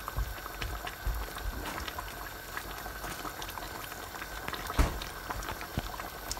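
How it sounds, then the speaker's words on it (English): Chicken curry sauce boils steadily in a pot, a continuous close bubbling and popping with one sharper clack partway through and no voices. "So, pakuluin lang po siya natin ang pakaluin within 5 minutes to 8 minutes para maging malapot po ang sabaw."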